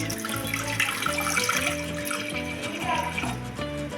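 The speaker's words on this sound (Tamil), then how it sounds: "ஸ்டவ்வில் ஒரு குக்கர் வச்சு ஒரு ரெண்டு ரோட்டா அளவு தண்ணி ஊற்றி" Water poured into a pressure cooker on a stove, a steady running and splashing stream heard fairly close throughout, with faint background sounds.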